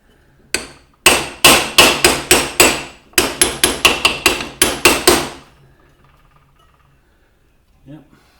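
A hammer strikes metal repeatedly while a rear wheel bearing is driven in on a Honda CBR250R MC19 motorcycle: one blow, then a steady run of about fourteen loud, ringing, close impacts, followed by quiet and a faint low thud.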